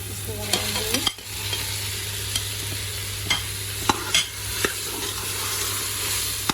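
Minced meat for keema samosa filling fries in a pan with a steady loud sizzle over a faint low hum, and a series of sharp spoon taps and scrapes from regular stirring.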